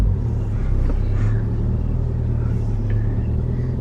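A car slowly reversing in a busy parking area on a Friday night, its engine a steady low rumble throughout with faint, brief background sounds above it.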